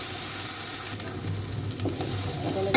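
Ginger and garlic paste frying with pangas fish head for a curry, a steady close sizzle and hiss with light stirring scrapes throughout, no talk.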